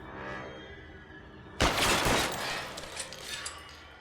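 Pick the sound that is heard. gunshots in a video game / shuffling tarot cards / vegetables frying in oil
gunshots in a video game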